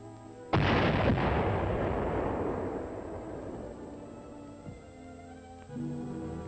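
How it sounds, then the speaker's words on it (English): Dynamite blasting shore ice into a bay during construction of a secret US airbase in Greenland: one loud, close boom strikes suddenly, then a long rumbling roar slowly fades away, with a couple of faint later thuds. "Dynamite was used to blast it into the bay."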